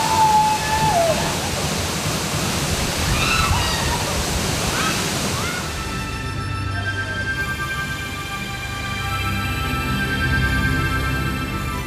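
Broad, steady roar of the largest waterfall in Bangladesh at Madhavkundo, a continuous rushing wash that holds at an even level throughout, with a few faint brief sounds over it at the start.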